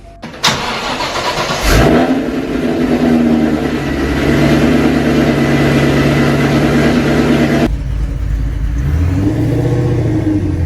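A Shelby GT500 Super Snake engine cold-starts, cranking and catching, settles into a high, steady idle for several seconds, then drops in pitch and revs back up briefly.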